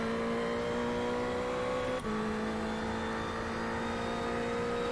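A Ferrari 488 race car in iRacing on the Long Beach street circuit holds a steady, droning engine note that dips once with a brief shift midway, then carries on evenly with no one talking.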